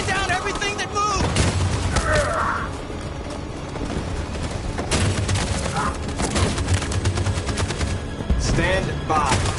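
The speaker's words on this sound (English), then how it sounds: "That machine gun is taking down everything that moves!" Dense machine gun fire in Detroit: Become Human, continuous rattling bursts mixed with booms and mechanical clatter, loud and close throughout.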